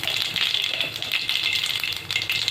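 Mustard seeds sputter and crackle in hot oil for a tempering of potato and cauliflower bhaji, a dense, steady bright sizzle with rapid popping, close and fairly loud throughout, with no talk.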